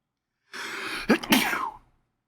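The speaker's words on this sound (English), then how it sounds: "That's me sneezing." A single sharp sneeze, preceded by a brief breathy intake, close to the microphone, then silence.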